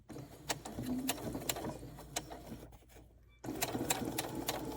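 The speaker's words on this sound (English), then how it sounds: "And sew all the way down." Sewing machine stitching a fabric Christmas tree ornament, a close rapid mechanical stitching rattle that slows and stops briefly before starting up again at full speed.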